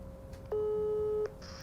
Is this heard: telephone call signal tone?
yes